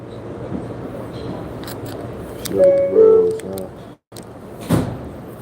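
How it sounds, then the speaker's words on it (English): A New York subway train at the 168th Street station: a rumbling platform hum, a chime-like tone near the middle, then a sharp clunk like doors closing, a brief silence and more rumble as the train prepares to leave. "the train about to pull off"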